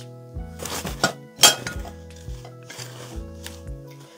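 Second-hand dishware clinks and rattles as pieces are handled and set down, with a series of bright, close chinks of ceramic and glass against a quiet background.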